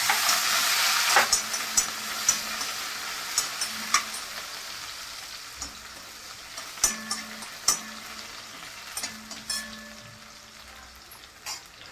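Pithla cooking in a pan with finely chopped spring onion greens just added, a hissing sizzle that is loud at first and gradually eases, broken by scattered clinks and scrapes of a spoon stirring, close, with no talk.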